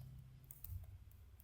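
Faint, sparse keystrokes on a computer keyboard, a handful of soft clicks over a low steady room hum with no talking.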